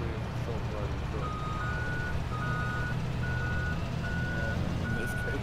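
A self-driving truck in a farming game reverses with a steady series of evenly spaced electronic beeps that repeat over a low engine rumble.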